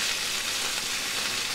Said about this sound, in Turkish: bonfile etleri güzelce kızarmaya başlıyor